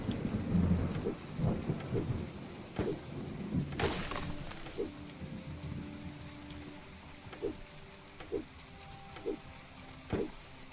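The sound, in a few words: rain and thunder in the video game My Time At Portia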